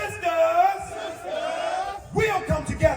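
An audience at a Temple of Hip Hop gathering whoops, yells and cheers loudly together in a steady roar, with a few sharp shouts standing out near the end.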